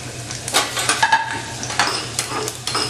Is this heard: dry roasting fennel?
yes